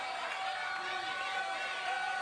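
Arena crowd at a live WWE NXT wrestling show, a steady dense roar of many voices with no distinct cheers or breaks, heard at moderate level throughout.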